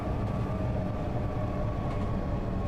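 A train in Train Sim World 2 on the Cologne high-speed line braking, a steady low rumble of wheels and rail with a faint sustained squeal running through it, continuous and fairly loud.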